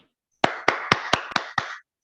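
Six sharp hand claps in a quick, slightly uneven rhythm, fairly close and clear against silence, given in honour of a guest during an online webinar; no talking over them.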